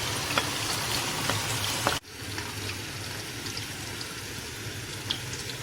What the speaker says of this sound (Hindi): ऑयल जब गर्म हो जाए तो इसके अंदर मैरिनेट किया हुआ चिकन डाल देंगे।